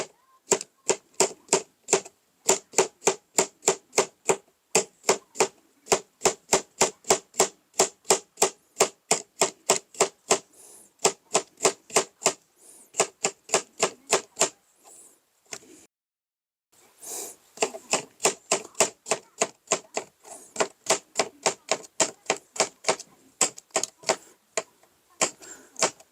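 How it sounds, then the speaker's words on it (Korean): Knife rapidly chopping zucchini on a hard plastic cutting board, dense runs of sharp, evenly spaced clacks with brief pauses between bursts, close and crisp. "이 플라스틱 도마라 딱딱거리네요."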